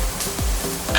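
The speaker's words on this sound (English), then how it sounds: "we are gonna stir fry it" Garlic, onion and chili padi hiss loudly in a hot pan as they are stir fried, a dense close sizzle with a couple of quick scraping strokes.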